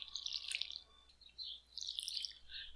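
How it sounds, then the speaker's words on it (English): Watering can sprinkling freshly planted seeds on a farm in Stardew Valley: two soft bursts of bright, splashy dripping water, fairly faint, separated by a short pause, with no talking. "we're going to go ahead and water"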